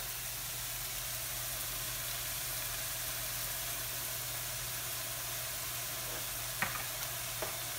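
Fish sauce and sugar sizzle in a wok for pad thai, a steady broadband frying hiss with a low hum beneath and a couple of brief clinks near the end.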